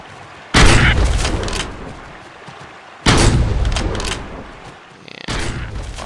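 Three loud, sharp rifle shots ring out at deer in the mobile hunting game Deer Hunter 2014, each a sudden close blast trailing into a decaying rumble, spaced a couple of seconds apart.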